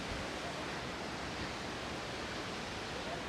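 A steady, dense roar of rushing water fills the whole clip, continuous and unbroken, from Palaruvi Waterfalls in Kerala heard from nearby.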